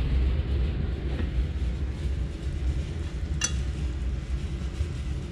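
Pompano fillet frying in oil and butter in a pan, a steady soft sizzle with low background rumble and one brief sharp clink midway.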